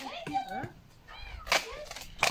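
A cat meows several times at close range, giving rising and falling cries that end in sharper bursts.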